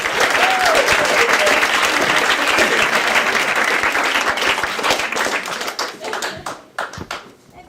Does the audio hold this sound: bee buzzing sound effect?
no